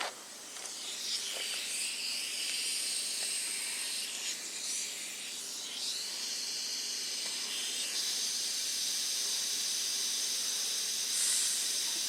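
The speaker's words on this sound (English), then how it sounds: "whenever you control your air right here, gently, gently, gently, gently" Compressed air hisses softly and steadily through a barely opened valve as it pushes grease out of a Jeep Wrangler differential, a faint continuous hiss with slight variations and no talk.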